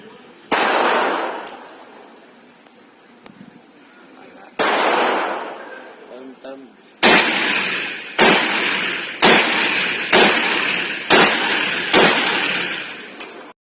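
Benelli M4 shotgun fired outdoors: loud, sharp blasts, two spaced shots followed by a rapid string of about six evenly paced shots, each with a short ringing decay.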